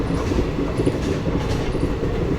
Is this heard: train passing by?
yes